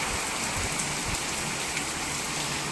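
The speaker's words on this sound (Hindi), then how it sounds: "यहाँ पे बहुत ज़्यादा बारिश हो रहा है और काफ़ी तेज़ बारिश हो रही है।" Heavy, steady rain pours down in a dense, continuous hiss, close by and loud, with no pauses throughout.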